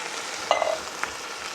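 Canned tomatoes hit a hot frying pan of charro beans with a broad, steady sizzle and a brief sharp hiss, heard close with no talking.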